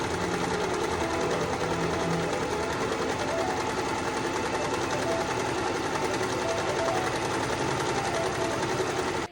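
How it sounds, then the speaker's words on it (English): A sewing machine runs a straight stitch down a long strip of thrifted bedsheet fabric, humming and whirring steadily and close for the whole stretch without any talk. "Using a basic straight stitch, sew down the entire length of the strip"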